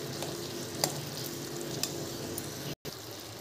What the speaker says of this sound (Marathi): टोमॅटो छान असे मॅश करायचे